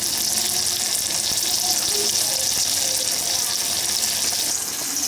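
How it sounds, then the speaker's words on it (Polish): Apples frying in butter in a home kitchen pan, a loud, dense, continuous sizzle that stays steady throughout, close to the microphone. "Smażonego w maśle"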